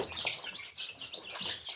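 Newly hatched chicks peep in rapid high-pitched bursts from an incubator, several close-up chirps overlapping almost continuously, with no talk.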